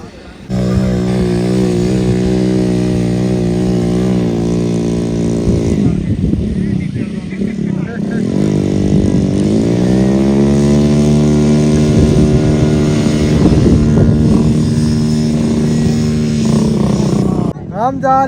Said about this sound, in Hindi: ये जा रहे हैं जी 4x4